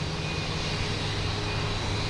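An airplane arriving from Nantucket on approach to Boston Logan Airport makes a steady, loud engine roar that holds even and unbroken throughout.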